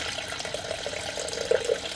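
Water poured into a bowl for quick-rise flatbread dough, 400 grams of it, as a steady splashing pour with a couple of brighter splashes near the end, close and continuous.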